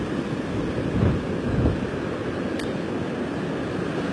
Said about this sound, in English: you're going to get hit by the surf that's coming in from Hurricane Michael. Some pretty high waves out there on the water.